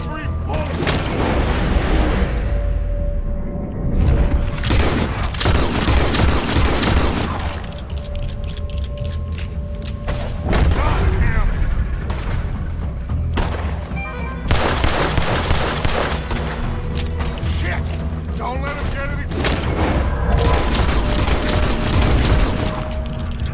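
Repeated gunfire from Red Dead Redemption 2 rings out as a fusillade of loud shots and booms, with someone talking over the shooting.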